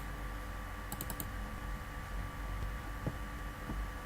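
A computer mouse double-clicks a calculate button in a program: a quick cluster of faint, crisp clicks near the start over a quiet room hum, followed by a few softer taps.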